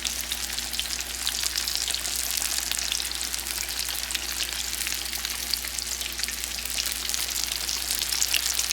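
Fish deep frying in hot oil gives a steady, dense sizzle and crackle that holds evenly throughout, close and moderately loud with no talking.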